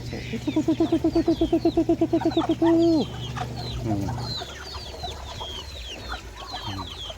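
A rapid series of duck quacks repeats in a quick rhythm, then scattered bird calls and chirps continue more faintly over a provincial farmyard background.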